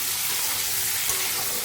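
Poppy seeds (posto) fry in a pan with a soft, steady hiss and light crackle, close and continuous, and no talking.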